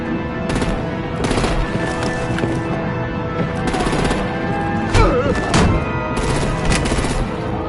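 Artillery and gunfire in the Batman video game, with rapid bursts of automatic fire and heavy shots repeating in clusters over a continuous loud battle din.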